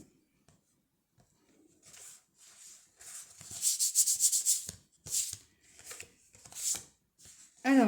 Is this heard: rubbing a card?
yes